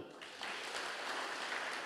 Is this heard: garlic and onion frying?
no